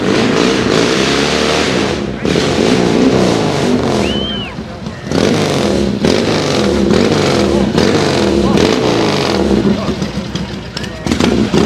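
A 1963 Triumph TT dirt bike at an outdoor award show runs loud and close, its engine churning steadily with a brief dip midway, crowd and announcer noise mixed in.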